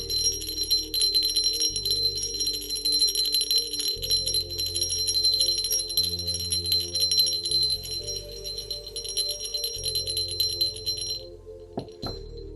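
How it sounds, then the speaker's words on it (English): A dragon bell rings in a steady, sustained shimmering tone, its bright metallic overtones holding for several seconds over a low pulsing hum before fading out, followed by a brief clack near the end. "dragon bell."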